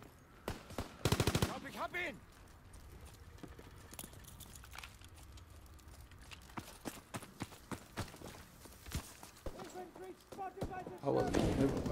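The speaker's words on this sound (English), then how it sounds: "Who is shooting?" Gunfire in the online game Call of Duty WWII: sharp, scattered shots and short automatic bursts ring out at a moderate distance, louder volleys near the start and end, while a player talks over them.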